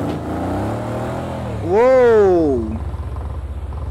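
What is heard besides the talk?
car accelerating in third gear and spinning out on ice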